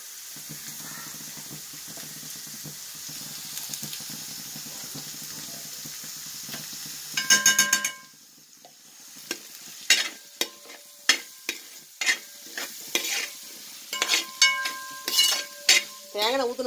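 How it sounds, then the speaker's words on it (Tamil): Ginger and garlic fry in ghee for a country chicken biryani, a steady sizzle with faint voice murmurs early on, then a burst of clattering around the pan and a run of sharp metal spoon scrapes and taps over the crackle. "இஞ்சி பூண்டு நல்லா வதங்கட்டும்"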